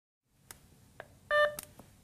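A Nonin LIFESENSE monitor powering on gives a short, clear electronic beep at moderate level in a quiet room, with a few soft clicks from the button press before and after it.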